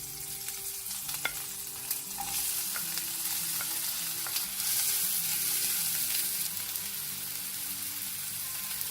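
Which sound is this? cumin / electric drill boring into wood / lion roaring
cumin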